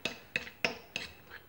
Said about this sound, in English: just pressing it down with my fork. Scraping the sides.